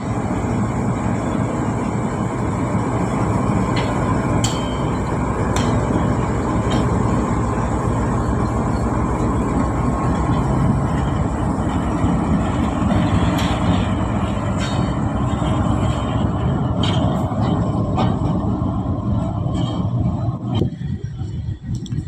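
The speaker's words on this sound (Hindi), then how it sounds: "ये आ गया जी आज का किलर लोकोमोटिव GU40 9031" GU40 9031 diesel locomotive pulling into a station in Pakistan, a steady loud engine rumble and rolling noise throughout with occasional high squeals and clanks, no talk.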